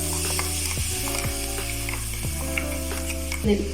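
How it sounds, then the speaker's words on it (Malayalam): Ground coconut paste poured into sautéed onions, tomatoes and green chillies in a hot pan, making a dense continuous sizzle with a faint mechanical whir and a few light clinks, close by. "നമ്മുടെ ഉള്ളിയും പച്ചമുളക് തക്കാളിയൊക്കെ വഴന്നു വന്നിട്ടുണ്ട് നമുക്ക് ഇതിലേക്ക് അരച്ചെടുത്ത തേങ്ങ ഒഴിച്ചു കൊടുക്കാം"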